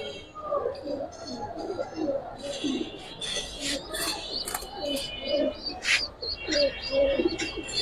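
Silver pankhi military and coloured pigeons coo softly and repeatedly at close range. Sharp chirps and a metallic clink break in now and then, and faint human voices sound in the background.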